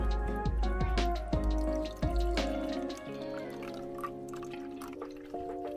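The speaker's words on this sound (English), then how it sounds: "Go ahead and put some water in here for you." Water poured into a Flammel flame humidifier, a close, bubbling, gurgling stream with rising glugging tones that fades into a steady trickle and a few drips. No one speaks.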